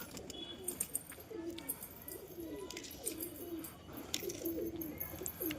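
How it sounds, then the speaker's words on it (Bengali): A pair of pigeons offered for sale coos in a steady run of low, throaty phrases, close and fairly loud, with faint high chirps from other birds in the background and no talking. "কবুতর দুটো দারুণ কবুতর"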